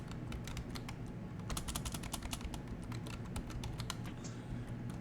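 Rapid clicking of keys on a computer keyboard as a Linux command is entered, steady close-up typing with irregular clusters of keystrokes over a low background hum.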